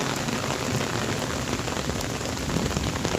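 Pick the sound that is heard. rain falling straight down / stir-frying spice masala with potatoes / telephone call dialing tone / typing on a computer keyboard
rain falling straight down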